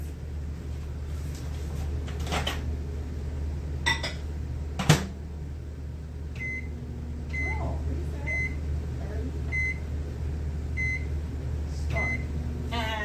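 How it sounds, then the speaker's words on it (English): A microwave oven hums steadily while heating butter for caramel, with a few short beeps and some soft clinks of dishes and cutlery along the way. "put this in the microwave in 30 seconds"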